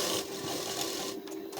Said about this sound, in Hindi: लौट कर सिलाई चलाएंगे